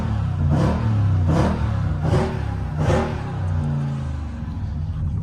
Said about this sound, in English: It's fine to rev the engine when it's cold.